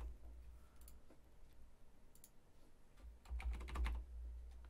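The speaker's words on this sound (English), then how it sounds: "we're going to type in mirror." Typing on a computer keyboard, faint scattered key clicks building to a brief quick flurry near the end, quiet and close.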